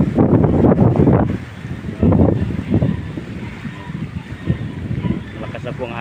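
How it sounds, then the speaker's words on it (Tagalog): Strong typhoon wind by the seashore buffets the microphone in heavy gusts, with a person speaking over the roaring, blustery air. "Malakas na po ang hangin niya dito"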